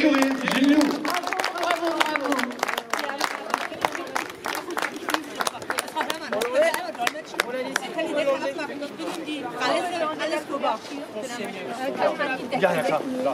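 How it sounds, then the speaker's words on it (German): Audience applause at the Gelsenkirchen trotting track after a Grand Prix race, with scattered clapping running steadily under loud talk and crowd chatter throughout. "Ihren herzlichen Applaus bitte für Benjamin und für Écureuil Genilou."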